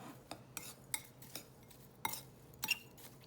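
A spoon stirs cayenne pepper into a cheese sauce for mac and cheese, making a few sparse, light clinks against the pot at irregular intervals, quiet and close, with no talking.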